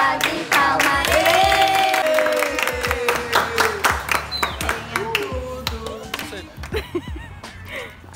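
A small group claps for a birthday girl during a party, a few voices singing and chattering over the hands, the clapping growing more distinct and scattered toward the end.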